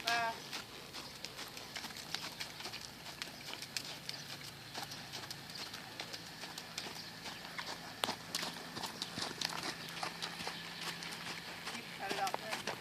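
Hooves of a two-week-old horse clop steadily on firm ground at a brisk walking pace, close by, with faint background noise and occasional brief sounds.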